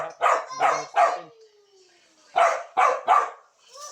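A dog barks outdoors during a hunting trip, two quick bursts of three loud, close barks separated by a brief pause.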